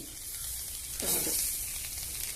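Oil sizzling in a pan as tomatoes are sautéed for a pepper-tomato and broad bean gravy, a steady close hiss that swells louder about midway through and then holds, with no talk.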